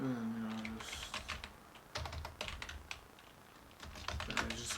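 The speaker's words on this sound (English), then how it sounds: "So if I just type in 8" Rapid clicking of a computer keyboard in quick runs of keystrokes, close and fairly soft, with a brief spoken word at the start.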